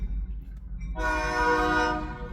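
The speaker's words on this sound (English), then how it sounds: "Here comes the party train!" A train horn blasts loud and steady over the low rumble of a passing train in New Orleans during Mardi Gras, holding its chord for about a second.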